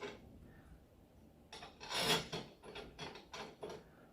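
Screws being tightened on a two-part pull ring for push-in pipework, giving a few quiet, short rasping and rubbing strokes in close succession after a near-silent start.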